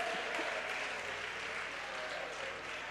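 A church congregation applauding during a worship service: steady, dense clapping from many hands, moderately distant and even throughout, with no clear voices over it.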